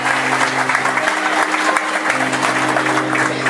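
A strong, dense round of applause from a concert audience at a Los Americanos 50th anniversary show, loud and continuous with a sustained musical hum beneath the clapping.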